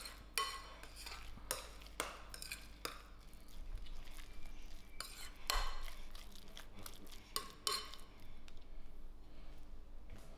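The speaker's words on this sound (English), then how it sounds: "I'll give this a nice mix." A spoon stirs a lamb mince mixture for shepherd's pies, giving a run of close, irregular scrapes and soft clinks against the bowl with no talking.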